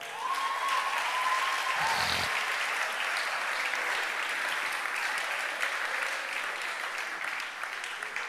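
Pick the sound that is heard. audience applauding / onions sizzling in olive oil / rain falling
audience applauding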